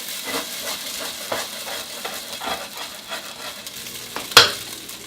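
Ground hamburger meat frying in a pan with little grease, a steady close sizzle with repeated scrapes of a slotted spatula and one sharp metallic clank near the end.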